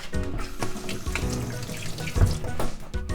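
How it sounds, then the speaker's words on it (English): Hands washed under a running kitchen tap while making dango, a steady close splashing stream with shifting gurgles as the hands move through it, and music playing underneath. "I'm just gonna wash my hands first."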